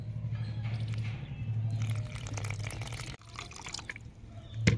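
Water poured and trickled into maida flour to mix a thin batter for pinwheel samosas, small splashing and dripping sounds close up over a low kitchen hum.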